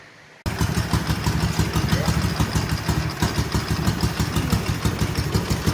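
An old Ural motorcycle engine that sat unused for 11 years starts up and idles with a loud, close, rapid and uneven chugging pulse, following a brief quiet moment at the start.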